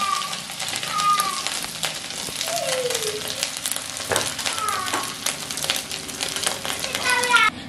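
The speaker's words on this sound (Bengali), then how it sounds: "বেগুনটাকেও আমি ভালো করে ভেজে নেব" Brinjal pieces frying in hot oil for Bengali sukto, a steady close sizzle with scattered crackles and clinks of stirring running throughout.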